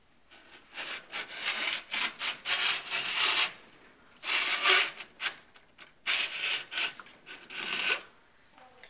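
Metal file rasps along steel snowboard edges in repeated long strokes with short pauses between them, close and clear, with no talking.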